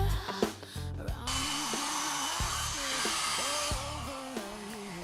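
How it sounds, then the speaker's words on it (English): A hair dryer blows steadily to dry a handmade craft card, a continuous broadband whoosh with shifting pitch, close and loud, with a few clunks and handling knocks near the start. "Okay, so I've got my hair dryer out."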